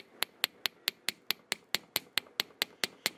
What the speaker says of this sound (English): I'm going to give it a good tap right here in the curve of the earring